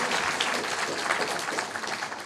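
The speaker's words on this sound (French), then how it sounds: "normalement, vous applaudissez très fort." Audience at a children's theatre show applauding, a thick continuous patter of many hands, fairly loud and even, with a murmur of voices mixed in.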